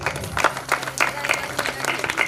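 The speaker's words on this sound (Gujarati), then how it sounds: "તાળીઓ થી વધાવો" A crowd claps for a departing daughter at a farewell ceremony. The applause comes in scattered, uneven bursts at moderate volume, with voices mixed in.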